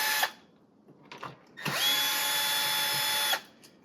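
A Milwaukee 1/2-inch impact driver drives screws of different sizes: a few short bursts, then one sustained, steady, close-up whir lasting over a second before it cuts off.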